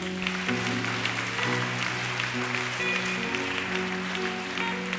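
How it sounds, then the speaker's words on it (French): A church congregation applauds during a prophet's service, the clapping rising and falling at moderate loudness over sustained musical tones throughout. "On applaudit Jésus."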